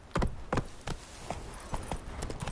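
Roach the horse galloping in The Witcher III: Wild Hunt, a run of loud, close hoof clip-clops in an uneven rhythm, heard alone with no talking.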